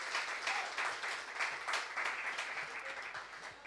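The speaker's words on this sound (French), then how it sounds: "si on peut les applaudir et les féliciter" A church congregation at a Sunday service applauds its new worship team leaders, a sustained burst of many hands clapping together in a large room, steady for a few seconds before beginning to fade.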